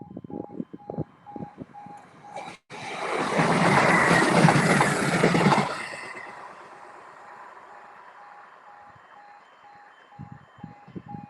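A Sprinter passenger train passes the lineside at Ely, a loud rumbling, clattering swell building over a few seconds then fading away, with a steady warning tone and scattered clicks before and after.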